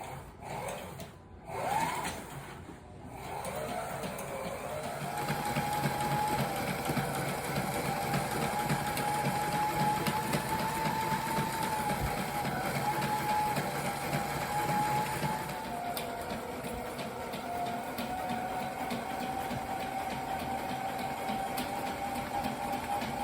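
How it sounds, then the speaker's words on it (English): A sewing machine stitches down the basting-taped seam joining two sail panels for a Wharram Tiki 21 catamaran. A few clunks open it, then a loud, steady, continuous whir runs on alone without pause. "then you sew down the seam where the basting tape joins the two panels"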